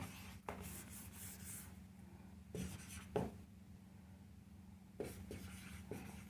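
Writing on a board in a physics class gives faint, scratchy strokes with a few sharper taps over a steady low hum, quiet and close with no talking.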